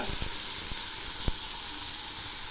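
Ridge gourd and other vegetables frying in oil, the water cooked off, give a steady broadband hiss of sizzling with a few faint low knocks near the start, fairly close and with no talk.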